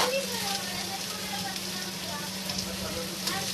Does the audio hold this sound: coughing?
no